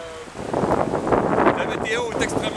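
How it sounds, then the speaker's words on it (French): Strong wind buffets the microphone on an exposed hiking trail in the Tablelands of Newfoundland, a steady loud roar with gusting swells throughout and no clear voices. "On a énormément de vent."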